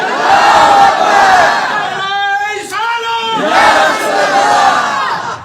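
A large crowd at a Hindi-language religious rally roars a loud, unified chant in response to a Takbir call. One lone voice rises briefly in the middle before the mass of voices surges again.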